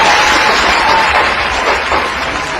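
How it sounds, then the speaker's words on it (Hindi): An audience gives a loud, steady round of applause to welcome a guest, dense clapping that lasts the whole stretch without letting up. "जोरदार ताली से स्वागत किया"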